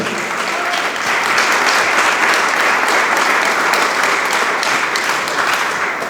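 A church congregation claps together in steady, dense applause, loud and close throughout, with no voices rising above it.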